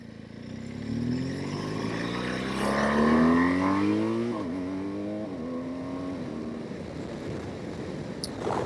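A 2018 BMW R1200GS Adventure motorcycle in Racing Red is ridden, its engine droning close and steady and climbing in pitch through acceleration and shifts, with no voices.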